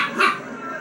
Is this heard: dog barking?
yes